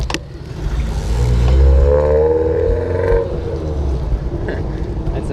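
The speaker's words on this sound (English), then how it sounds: "That's an old car, but it sounds like a muscle car." An old car with a loud, muscle-car-style engine rumbles past at night on a street, heavy low-end roar swelling and fading over about three seconds, with a voice talking over it.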